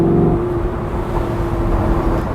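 A Lamborghini Gallardo LP560-4 Spyder cruises in 4th gear, its engine giving a steady, loud, close droning hum with a constant low tone and no revving or talk.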